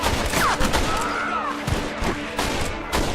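Gunfire in Red Dead Redemption, a loud rapid fusillade of overlapping rifle and pistol shots in a battle, with shouted voices mixed into the constant crackle.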